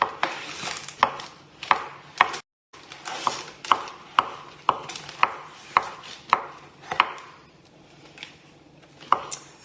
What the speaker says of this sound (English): there's no mushroom left on this chopping board